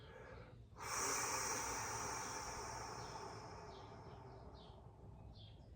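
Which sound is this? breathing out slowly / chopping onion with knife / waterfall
breathing out slowly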